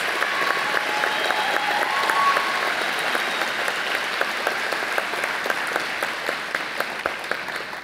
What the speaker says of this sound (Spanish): Fuerte aplauso para nuestras docentes reconocidas del Departamento de Humanidades.